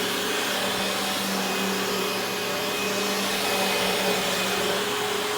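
Steady, continuous whine and roar of a vacuum cleaner pushed over bedroom carpet near a bed, loud and close with no pauses and no voices.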